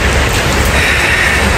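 Steady rain falls in Accra, Ghana, a dense loud wash of drops hitting surfaces close by, continuous and even throughout with no talking.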